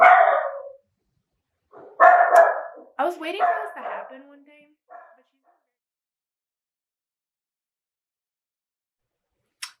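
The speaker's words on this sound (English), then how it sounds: "I think she's done barking." A dog barks and yips in short bursts close by, mixed with a person speaking, then the room goes quiet.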